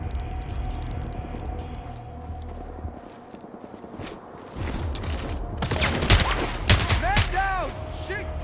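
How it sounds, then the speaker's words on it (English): Bursts of gunfire in the stealth shooter Sniper Ghost Warrior Contracts 2, with scattered shots early and a loud cluster of rapid reports near the end over a steady game ambience. "Intruder alert! Opening fire!"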